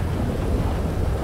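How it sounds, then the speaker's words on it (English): Heavy rain in GTA 5 roleplay, a dense steady roar of downpour with low rumbling wind, constant and loud with no talking. "it's raining so heavily, that's why I was not able to see the stop sign"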